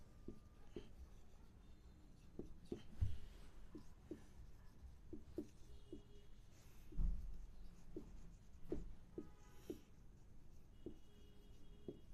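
Quiet handwriting during a Persian lesson: scratchy pen strokes in irregular bursts, with occasional light taps and soft thumps against the writing surface.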